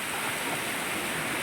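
Heavy rain pours down steadily in a dense, unbroken hiss, loud and close, with no voices over it.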